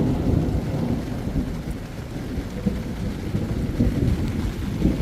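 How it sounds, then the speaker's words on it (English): Steady heavy rain with low rumbling thunder falls outdoors over a Honda Prelude with an H22A engine during a front main seal replacement, a dense, continuous wash of sound with no voices. "this rain is trying to stop the show, but the show goes on"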